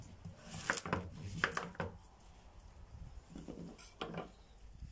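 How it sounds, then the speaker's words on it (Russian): A knife slicing zucchini into rings about a centimetre thick in a village kitchen, heard as a few soft, separate cuts and taps on a board, quiet and close, with light handling noise between them and no talking. "Начинаем с кабачка. Режем на кружочки"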